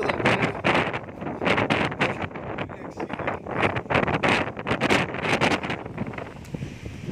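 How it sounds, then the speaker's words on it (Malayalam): Strong wind and rain lash a misty hilltop at Panchalimedu, with gusts roaring and buffeting the microphone in loud, surging waves that rise and fall almost without pause. No one talks. "അത്രയും മഴയും കാറ്റും"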